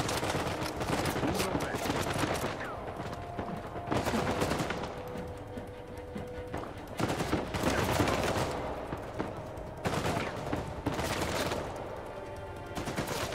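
Gunfire in the video game Uncharted 4: dense bursts of rapid shots and automatic-weapon fire in repeated volleys, loud and continuous, with a player speaking briefly underneath.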